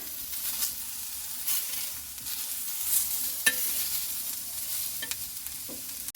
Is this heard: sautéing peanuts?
yes